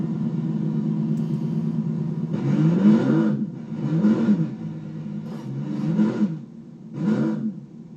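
Fungo van 186 demolition derby car from a video game, its engine with the muffler removed revving in four loud, rough bursts over a steady idling rumble.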